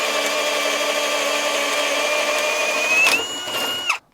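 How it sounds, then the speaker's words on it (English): Ryobi HP drill in drill mode at speed 2 boring a 3/4 inch hole, a steady loud whine with a rising pitch near the end before it stops abruptly; no talking. "doing the 3/4 inch with the Ryobi HP in speed 2 in drill mode"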